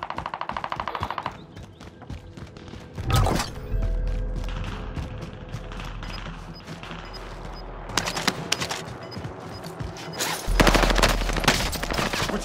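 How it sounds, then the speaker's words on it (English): Call of Duty gunfire rattles in loud, close bursts, with sharp automatic volleys at about three, eight and eleven seconds over a steady bed of game noise and mechanical clatter, with no voices. "We're taking fire!"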